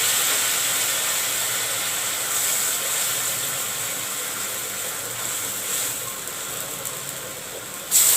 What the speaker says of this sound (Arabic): اللحمه دايما لها ترمطها على النار